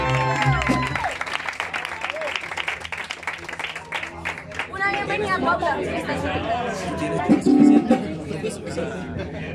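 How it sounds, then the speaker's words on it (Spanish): Audience applause and cheering at a mariachi birthday show in Colombia, scattered clapping mixed with lively crowd chatter and voices, swelling and fading in uneven bursts. "Fuerte el aplauso"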